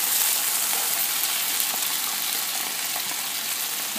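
Garlic and onion fry in a pan over medium stove flame, a steady, loud broadband sizzle that continues evenly throughout with no talk.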